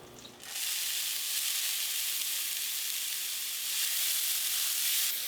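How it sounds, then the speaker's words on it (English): Ten ounces of drained riced cauliflower hitting a hot skillet, a sudden loud hiss that settles into a steady, close sizzle lasting several seconds with no voices. "So into my skillet, I'm putting 10 ounces of riced cauliflower."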